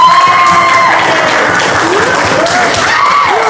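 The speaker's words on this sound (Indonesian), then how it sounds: "Tepuk tangan untuk Kakak Wawa dulu" Loud, continuous clapping from a group of students at a school gathering, with whistles and voices rising over the dense applause throughout.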